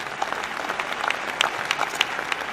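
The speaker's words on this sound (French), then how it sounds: "d'applaudir, s'il vous plaît, les 18 nommés Mbappé de cette soirée" Audience applause at a regional business awards evening in the Loiret for the 18 nominees, a brief, steady burst of clapping with a few sharper individual claps standing out.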